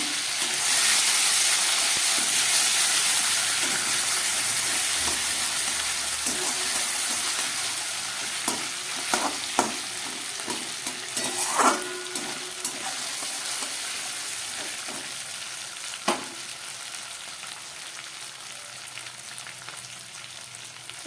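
Green chili paste and tomato frying in a pan for a jackfruit curry, a loud hissing sizzle that gradually eases, broken by scattered pops and utensil clicks.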